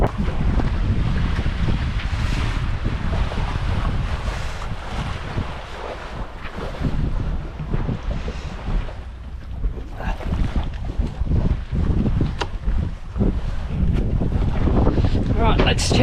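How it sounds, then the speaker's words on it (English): A sailboat runs with the wind on open water, wind buffeting the microphone in a steady rush while hull and waves slosh close by, broken by brief louder gusts and splashes. "We're sailing, baby,"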